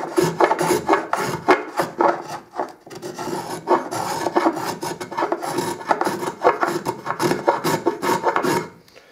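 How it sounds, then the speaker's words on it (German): Small hand plane working the rounded edge of a wooden top board for a baroque chest of drawers, repeated rasping strokes in an uneven rhythm, close and alone, pausing briefly midway. "Einmal habe ich hier so einen kleinen Hobel."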